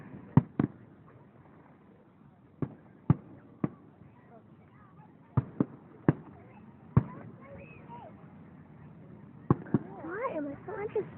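Fourth of July fireworks burst in a series of sharp, distant-sounding bangs at irregular intervals, with people talking and exclaiming faintly in the background.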